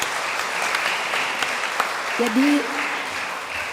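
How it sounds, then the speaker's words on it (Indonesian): A church congregation applauds during a Sunday Mass, steady moderate clapping throughout, with a brief spoken word at the start and a faint voice partway through. "Jadi kita beri aplaus ya."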